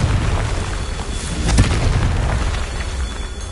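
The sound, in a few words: Confringo explosive spell in the video game Hogwarts Legacy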